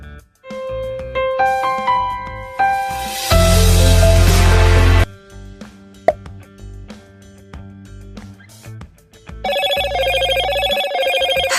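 A classic Motorola mobile phone ringtone plays clearly and loudly, a sequence of bright electronic tones and melodic phrases in distinct bursts separated by short gaps, alone without any talk.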